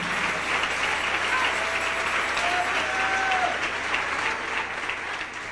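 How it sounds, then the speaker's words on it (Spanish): A church congregation applauds steadily through a morning Spanish-language service, a dense, sustained wash of many hands clapping that fills the room with only faint voices beneath. "Denle un aplauso al Rey en esta preciosa mañana."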